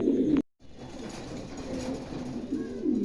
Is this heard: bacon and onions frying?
no